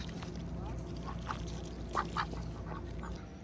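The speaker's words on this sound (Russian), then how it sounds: "уже непосредственно покормить уточек с лодки" Ducks on a pond at a New York campground quack in a few short bursts, moderately close, over steady background noise with a voice talking nearby.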